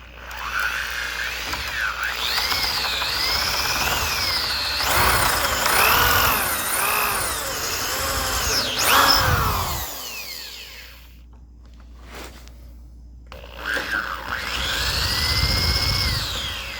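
A power drill bores into a wooden door during a cat door repair, its motor whining up and down in long bursts with pitch sweeps, pausing briefly near the end before spinning up again.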